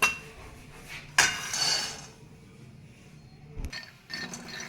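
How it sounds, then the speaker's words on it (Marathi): Close metallic clinks and scrapes of a utensil in a wok as peanuts are dry-roasted for sabudana khichdi, with a few sharp knocks over a quiet background. "आपण हे शेंगदाणे आता कढईमध्ये चांगले भाजून घेऊया"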